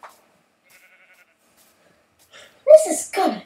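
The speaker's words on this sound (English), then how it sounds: "Okay, so now we have three sheep." A few short bleats come from sheep in a video game, faint and brief near the end, with a player talking around them.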